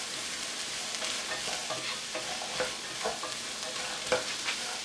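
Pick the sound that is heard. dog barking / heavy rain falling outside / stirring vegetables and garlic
stirring vegetables and garlic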